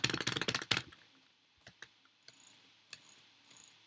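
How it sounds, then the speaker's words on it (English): A loud computer keyboard during a Minecraft game, a rapid burst of close clacking keystrokes at first, then scattered single key clicks and short taps with quiet gaps between. "Sorry if you can hear my keyboard."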